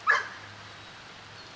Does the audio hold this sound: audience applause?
no